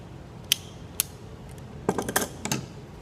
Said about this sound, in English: These are locking pliers.